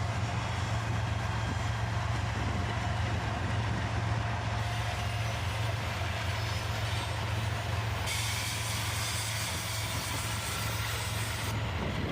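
A three-unit locomotive lash-up with an SD40-3 rebuild trailing moves past on the rail line, giving a steady, loud rumble of engines and rolling wheels that holds constant throughout with no talk.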